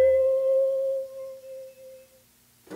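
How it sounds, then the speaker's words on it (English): Single bell one-shot from the Circles one-shot pack by 44th Floor, played dry with no EQ: one struck tone rings out clearly and decays smoothly over about two seconds, leaving a faint tape-like hiss. "the next sound is literally just a one-shot bell from the 44th Floor's one-shot"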